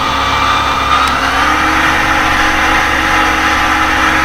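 A small Aeroprakt A-22 light aircraft's engine drones steadily and loudly at high power on the runway before takeoff, a continuous close hum with no voices.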